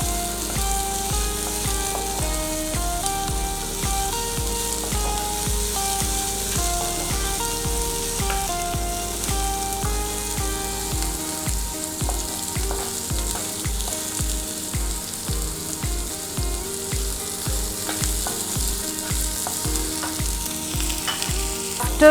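Chopped vegetables for veg upma frying uncovered in an open pan, a steady close sizzle with occasional stirring, under continuous background music and no talking.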